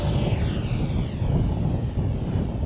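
A radio-controlled Villain model airplane flies a touch and go on a windy, gusty day, its engine a steady buzzing drone over rumbling wind noise.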